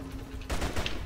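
A single gunshot bursts out in the video game Jet Li: Rise to Honor, loud, short and sharp over faint game ambience.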